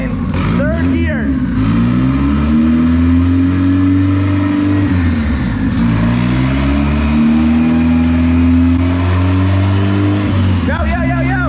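Turbocharged Honda engine on a $120 budget turbo revving hard through a third-gear pull, loud and close, with rising and falling engine harmonics as it climbs and shifts, plus whoosh and flutter at the start and end.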